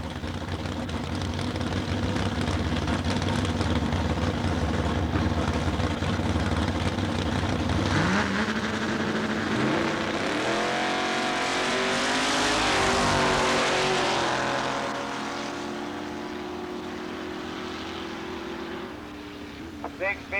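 A Chevrolet Camaro drag racing car at a dragway in 1990 roars past, its engine rising in pitch as it accelerates and then fading into the distance, with an announcer talking over the noise.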